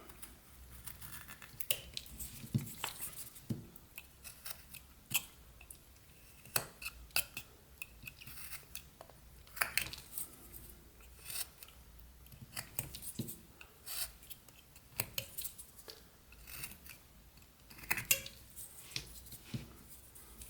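A knife whittles wood while a small Santa figure is carved, giving faint, close scraping and rasping strokes in an irregular rhythm of short cuts throughout.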